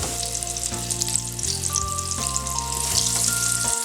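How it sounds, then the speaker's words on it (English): Croquettes fry in hot oil, giving a constant, close crackling sizzle that carries on without a break, with gentle background music playing underneath. "Frying the croquettes"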